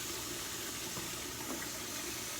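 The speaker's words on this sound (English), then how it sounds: "Once I turn my sink off" A kitchen sink tap runs water for dish washing in a steady, even, close stream that continues with no pauses.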